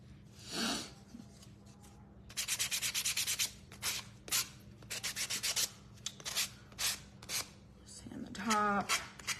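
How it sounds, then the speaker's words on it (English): Close, scratchy sanding of a wooden spindle-base bird house, in bursts of fast back-and-forth strokes with short pauses between them, under a low steady hum, with brief talking at the start and the end. "Sand the top, the sides."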